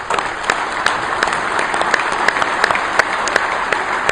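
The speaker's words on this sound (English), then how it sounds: "Give those guys a round of applause." Dense applause from a large crowd at an Ohio high school coaches convention rolls on steadily, sprinkled with a few sharper claps standing out, loud and close with no talking.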